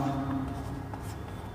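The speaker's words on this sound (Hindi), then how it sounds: "तो अब यहाँ लिखते हैं" Marker or chalk scraping across a board in a physics lecture classroom, a steady close scratching stroke lasting about a second and a half with no talk over it.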